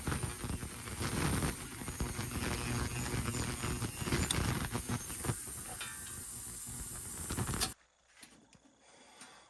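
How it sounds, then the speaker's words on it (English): An ultrasonic cleaner runs with a 1906 Walden socket wrench inside, giving a dense, hissy buzzing noise with crackles for most of the stretch before it cuts off abruptly into near quiet. "We're just going to pop these in the sonic cleaner and let it sonically clean all the 120 years of dust off."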